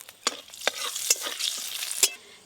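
Bengali five-spice seeds hit hot oil in a pan, giving a close sizzle broken by sharp pops and spatters across the short stretch, with no speech.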